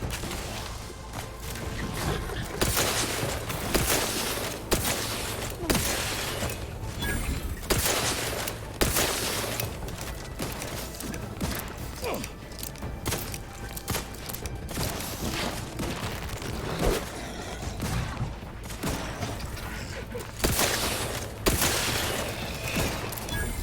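Rapid gunfire in The Outer Worlds 2 as bad guys are shot, sustained bursts of loud close shots and fusillades with brief pauses, clanks and impacts between volleys.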